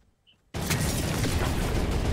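An explosion in the video game Fortnite bursts in suddenly after a near-quiet moment, then holds as a loud, dense, roaring blast that fills the rest of the clip.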